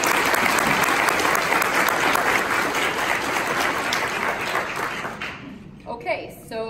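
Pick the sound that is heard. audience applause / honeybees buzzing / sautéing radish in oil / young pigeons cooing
audience applause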